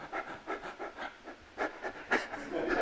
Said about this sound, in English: So I'm going to breathe shallow.